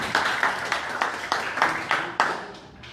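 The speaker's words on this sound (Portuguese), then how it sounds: "Uma salva de palmas para a Bela Gonçalves também." Audience members at a public political discussion event clap to welcome a speaker. About ten distinct, fairly close claps come in a loose, steady rhythm from a small group, thinning out at the end.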